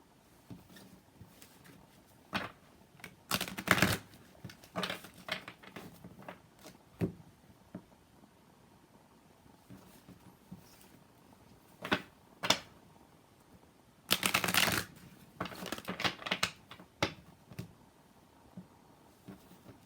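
Bursts of papery shuffling and riffling as tarot cards are shuffled come in several quick flurries, with soft taps and brushing in between, close and fairly quiet.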